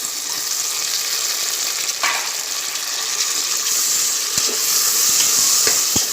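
Sliced onions fry in a pan for mutton dal gosht, producing a continuous dense sizzle and hiss close up, with a couple of brief stirring knocks near the end and no talk.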